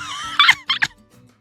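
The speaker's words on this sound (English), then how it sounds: "you have rubber chicken squawks to do" A rubber chicken toy is squeezed for two quick, shrill squawks in a row, close and sharp, followed by near silence.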